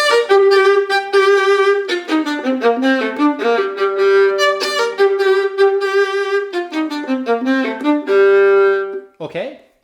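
A solo violin plays a quick, lilting jig, with bright bowed notes in bouncy repeated phrases and a clear close tone, ending in a short scraping glide.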